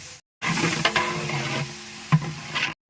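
Mutton sizzles and fries in a pan while ginger garlic paste is stirred in, with scraping stir strokes over a steady close hiss and a couple of sharper clacks, briefly cut by silent gaps.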